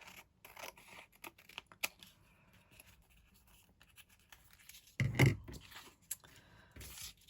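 Craft material being cut with scissors for a school design and technology project, heard as faint close snips and scratches, with one louder cutting burst midway, and no one talking.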